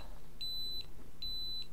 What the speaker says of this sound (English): this buzzer is buzzing